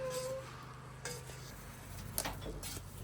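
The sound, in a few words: cooking with sugar in a pot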